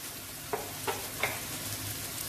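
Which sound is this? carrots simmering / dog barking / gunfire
carrots simmering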